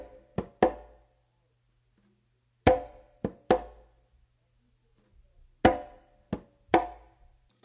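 Congas in a samba groove, close slap included, sound as crisp hand strikes in paired and triple groupings separated by short pauses, dry and close-miked.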